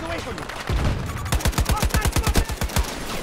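Rapid tap-fired AK rifle shots in Battlefield 2042, a burst of about a dozen sharp, evenly spaced reports after a brief lead-in, loud and close.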